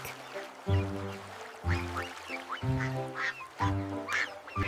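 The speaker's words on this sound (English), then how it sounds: "Quack, quack. 5 happy little ducks." Ducks quack in repeated bursts in an animated children's nursery rhyme, several loud calls in quick succession about once a second, close by with no talking.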